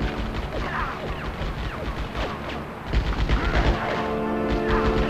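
Rapid bursts of gunfire from the Die Hard Vendetta video game crack and pound in quick succession, dense and loud, with crashing impacts mixed in and a heavier, louder stretch near the end.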